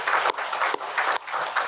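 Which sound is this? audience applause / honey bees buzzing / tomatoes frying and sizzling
audience applause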